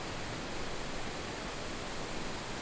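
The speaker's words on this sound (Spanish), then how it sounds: "miren, nosotros disfrutamos de la cascada" Waterfall at Río Celeste on Tenorio Volcano, Costa Rica, pouring with a steady, dense roar of rushing water, loud and close, with no other sounds.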